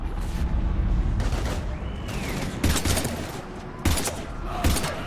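Gunfire in Mass Effect 3 during a husk attack on Earth, with irregular bursts of shots and sharp cracks over a rumbling battle backdrop, loud and close, including several strong volleys near the end.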